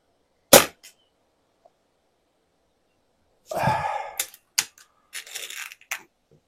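An Artemis CP2 air rifle fires a single sharp crack at the start, shooting at a 30-metre target, followed by silence and then several brief rustling handling noises.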